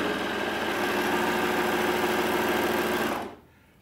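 A Juki MO-2000QVP serger runs fabric through at speed with a loud, steady mechanical whir and rapid stitching rattle for about three seconds, then stops abruptly into quiet.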